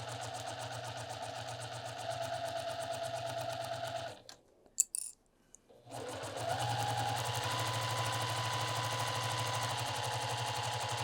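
A sewing machine stitching a zipper onto a pillow runs in a steady, even mechanical whir, stops briefly for a few clicks and handling noises, then resumes at the same rate.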